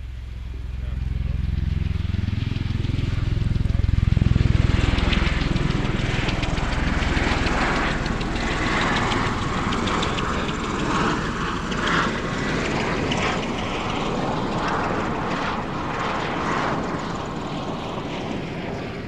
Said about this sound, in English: We expect now to see the Osprey making a so-called penetration descent